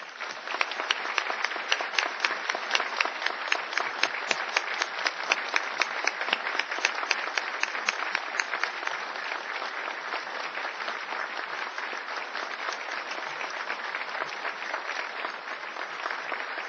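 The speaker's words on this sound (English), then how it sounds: "Let's applaud in their honor for 1 minute." An audience at a ceremony honoring victims applauds together in a sustained, dense round of clapping that holds steady for the whole stretch, loud and even, with no talking over it.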